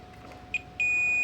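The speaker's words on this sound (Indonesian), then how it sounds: "saat saya tekan untuk tombolnya akan berbunyi bip panjang seperti ini" A Panasonic NA-V10FR1 front-loading washing machine's control module switch gives a short chirp, then a long, steady, piercing beep that holds to the end, close and clear.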